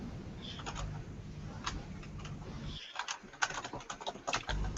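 Keystrokes on a computer keyboard come in uneven bursts over a steady low hum, clicks scattered irregularly through the span and growing busier near the end.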